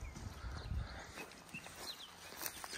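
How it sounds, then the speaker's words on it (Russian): A donkey walks on a rural plot near a river, its hoof steps soft and irregular over a steady outdoor background, with no one speaking. "кстати, гуляет ослик"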